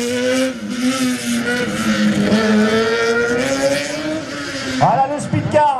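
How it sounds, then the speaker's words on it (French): A speedcar race car accelerates hard along a still-damp slalom track, its engine note climbing steadily and close, with a brief revving blip near the end and a commentator talking over it. "Voilà le speedcar, c'est parti."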